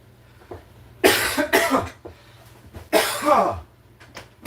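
Two loud, close bursts of harsh coughing, each a cluster of hacking coughs, separated by a short pause over a faint hum.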